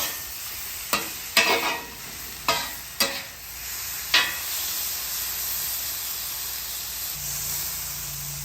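Tomatoes and green onions sizzle on a Traeger flat top griddle, a steady soft hiss broken by several sharp scraping stirs of a spatula on the hot steel.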